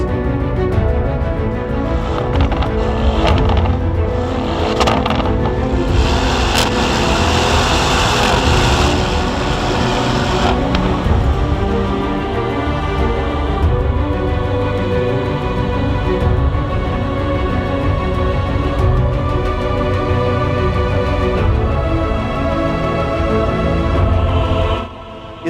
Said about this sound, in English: It comes with a 4-liter engine V8 made by Audi, and it's 641 horsepower.